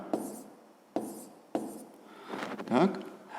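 A pen writes numbers by hand on paper while working a grade 5 maths exercise: three sharp taps, then a short run of scratchy strokes, close and fairly quiet.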